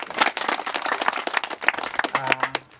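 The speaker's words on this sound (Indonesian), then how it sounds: "Tepuk tangan dulu untuk kita semua." Audience clapping hands at an Indonesian gathering, energetic and uneven claps close by that thin out toward the end, with a brief tonal hum near the finish.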